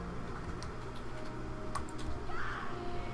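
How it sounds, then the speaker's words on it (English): Rapid typing on a computer keyboard, a run of quiet, close key clicks in an irregular rhythm, played alone without talk. "Just typing stuff up"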